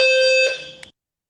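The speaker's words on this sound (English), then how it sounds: "They're testing the alarms today." A building alarm under test sounds as one loud, steady electronic tone with high harmonics, cutting off abruptly after about a second with a brief chirp at the end.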